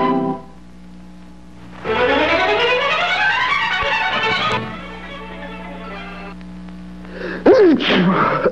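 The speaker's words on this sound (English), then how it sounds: "I've been sneezing and coughing" After a stretch of music and sliding tones, one sharp sneeze bursts out near the end.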